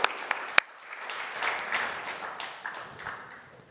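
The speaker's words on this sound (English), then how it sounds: "A round of applause for our industry winner." Audience applause for an award winner at the Start-up Energy Transition Award event: a crowd clapping steadily at moderate volume, with a few sharper isolated claps at the start and end.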